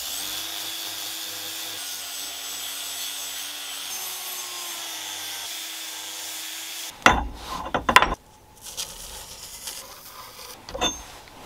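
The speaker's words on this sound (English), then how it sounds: "the rest I'm just gonna cut to pieces with my angle grinder" An angle grinder spins with a steady whine that shifts slightly in pitch, then cuts into a glass-fibre reinforced plastic axe handle with harsh bursts of grinding and clattering, close and moderately loud, no talking.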